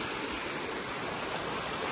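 Water rushes at Dhodhadi Waterfall near Padghe as a constant, dense roar with no pauses and no voices.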